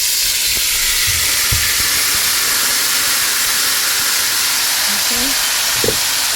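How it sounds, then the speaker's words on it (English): Thin strips of beef dropped into very hot oil for egg and beef fried rice, a loud, steady, close sizzle and hiss that runs throughout, with brief utensil knocks and a short spoken word. "and I'm gonna add the beef."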